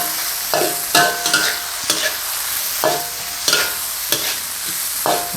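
Wagyu beef being stir-fried with basil sauce in a pan, a continuous loud sizzle with rhythmic scraping spatula strokes about once a second, close up and without talking.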